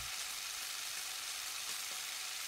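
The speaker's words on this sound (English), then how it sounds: "You actually are deep frying him." Continuous deep-frying sizzle from the video game Danganronpa, a soft, even hiss and crackle with faint pops, heard alone and fairly quiet throughout.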